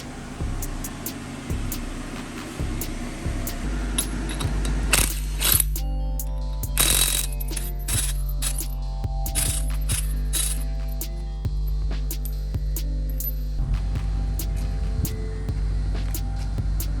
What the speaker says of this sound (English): Before I jack the truck up